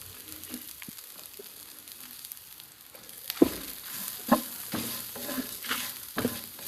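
Mustard seeds sizzling and popping in hot oil for a tempering for cucumber sambar, with a steady quiet frying hiss and several sharp pops and spoon clinks growing denser toward the end.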